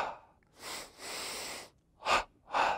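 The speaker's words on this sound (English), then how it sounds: "double inhaling, tensing up, double exhaling, relaxing down" Yoga breathing drill with two quick inhales and two strong exhales, the first pair longer and softer, the second pair two sharp, loud nasal bursts close to the mic, with no talking.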